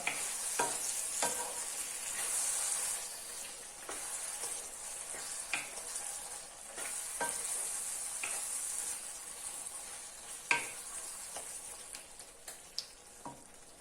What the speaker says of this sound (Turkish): Bir paket krema ilave ediyorum. Yine karıştırıyorum.